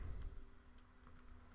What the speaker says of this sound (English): we can type commands like, who am I?